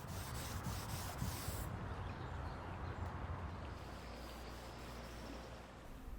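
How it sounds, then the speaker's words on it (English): Soft continuous rubbing as oil-based light walnut penetrating stain is wiped by hand onto a mid-century walnut veneer dresser with ash trim, a steady close cloth-on-wood swish with no talk. "So I'll first wipe on this oil-based penetrating stain in the color light walnut."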